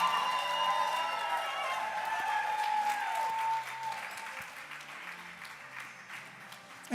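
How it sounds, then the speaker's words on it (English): An audience applauds the cast of a Lion King stage production at an encore, steady dense clapping filling the hall for several seconds, then thinning slightly toward the end. "let's give them all one more huge round of applause"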